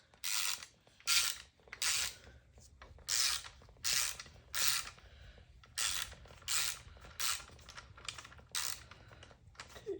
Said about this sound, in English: you're gonna wanna get your wrench in place, and then right here, and you're gonna wanna start loosening this